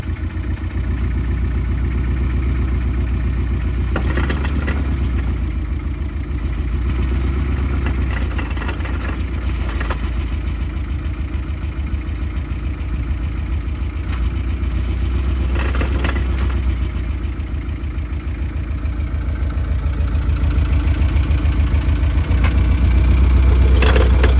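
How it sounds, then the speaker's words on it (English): A manual Porsche 718 Cayman GTS with a faulty clutch runs steadily up close, its low engine drone carrying a persistent rattling, knocking clatter, with a few brief louder clunks breaking through. "Clutch noise is back."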